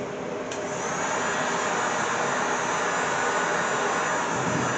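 Heat gun warming sound deadening material inside a VW, a loud continuous blowing whoosh that holds steady throughout with no pauses or talk.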